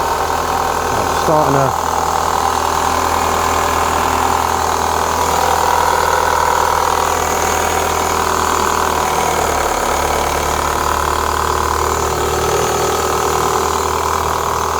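A Renault Clio 182 engine idles steadily throughout, a continuous mid-range hum with a faint rattle near the top end, while someone speaks briefly over it.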